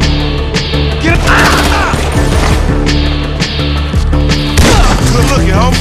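GTA 5 gameplay: loud bursts of gunfire and crashing impacts in a shootout, with rapid shots and booms layered over game music and voices shouting.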